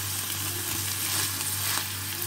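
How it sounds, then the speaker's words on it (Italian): Stuffed calamari sizzle loudly in a hot pan of oil, a dense, continuous frying hiss close by with no voices. "Adesso aggiungo i pesci, qua i calamari."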